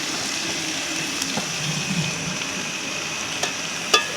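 Onions and dried chillies sizzle in a pan with banana blossom, a steady soft frying hiss running throughout with a few faint clinks near the end, in a village kitchen.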